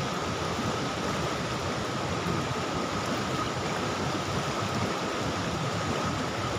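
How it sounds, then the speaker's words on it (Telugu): A rocky stream near Palamaneru rushes at full flow, producing a dense, continuous, even roar of water that fills the whole clip at steady loudness with no voices. "ఇటైతే నీళ్ళు ఫుల్గా పోతున్నాయి"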